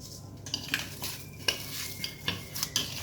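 Hands knead mashed raw banana with salt and asafoetida into a spice mixture, giving quiet, irregular squishing and soft clicking handling sounds close by, with no talking.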